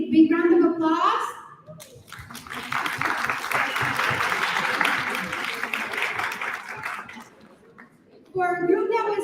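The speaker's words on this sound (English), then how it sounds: "let's see a big round of applause" An audience at a youth summit in Istanbul claps for a presenting group, a burst of applause lasting several seconds between stretches of someone speaking into a microphone before and after.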